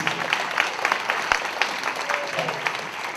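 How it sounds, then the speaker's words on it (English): Audience applause at a scholarship award event, a steady patter of clapping from a modest crowd lasting a few seconds, fairly quiet and without talk over it. "give them a nice round of applause, please"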